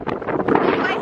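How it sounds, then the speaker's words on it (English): Heavy wind buffets the microphone, a loud continuous rumbling roar with gusty surges throughout. "you probably can't hear me because it's super windy today."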